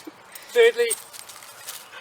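A dog gives two quick, fairly close barks outdoors during a magnesium rod fire-lighting session, with someone talking just before and after.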